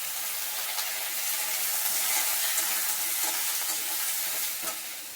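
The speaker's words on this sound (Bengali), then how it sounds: "এখন দেবো বরবটি। বরবটিগুলো সব ভেজে নেব।" Long beans tossed into a pan of lightly fried potatoes for village-style khichuri, giving a steady, close sizzle of frying with scraping stir strokes and small pops throughout, no talking.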